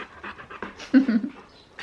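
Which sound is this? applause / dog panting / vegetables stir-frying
dog panting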